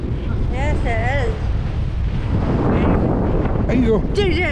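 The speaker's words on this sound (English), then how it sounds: "God, it's windy." Strong gusting wind buffets the microphone at Lybster Harbour in Caithness, a steady low roar running through the whole stretch while people talk over it near the start and again at the end.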